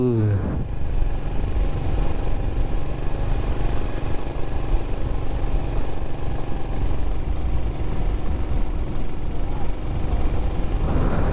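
Steady, continuous engine drone of a Honda Blade 110cc motorcycle climbing uphill, loud and close throughout with a constant low rumble.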